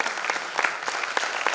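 An audience at the inaugural session of a Bihar cultural festival applauds, a dense and steady wash of clapping from many hands at moderate distance, with no talk over it.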